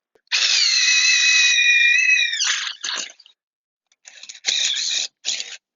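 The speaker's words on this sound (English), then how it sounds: "Now you only want to drill through this side of the pipe" A power drill bores through a metal pipe during assembly of hillside stairs, a loud, close, high whine that runs steadily for about two seconds, then breaks into short grinding bursts separated by brief silences.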